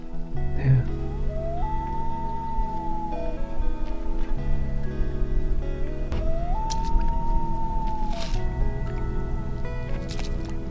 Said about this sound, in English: You hear the loon?